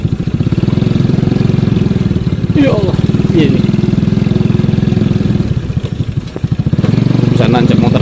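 A motorcycle engine chugs loudly and steadily up close as it rides along a slippery, muddy road, its throbbing idle dipping briefly before picking up again, while a rider speaks over it.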